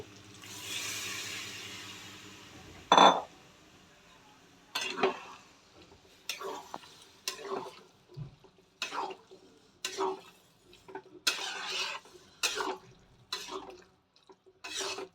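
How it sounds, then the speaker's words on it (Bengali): Boiled peas being stirred into oily, well-fried spiced masala in a cooking pan for vegetarian ghugni: a series of separate scraping, clattering stirs with soft sizzling, plus one sharp clank near the start. "মটরটা দিয়ে আমি মিশিয়ে নেব।"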